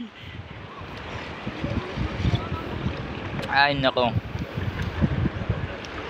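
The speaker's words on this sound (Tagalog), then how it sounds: "Napakalakas ng alon, ng hangin." Strong wind and rough waves buffet a boat out at sea before dawn, a steady broadband roar and rumble of gusting air and water throughout, with a voice briefly exclaiming over it.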